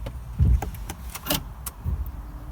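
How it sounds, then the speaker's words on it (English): Peugeot Traveller Allure 2017 van switched on inside the cabin, with a few close clicks and thuds, a brief whirring motor sound and a low rumble, all fairly quiet and without talk. "I'll turn the car on and I'll show you."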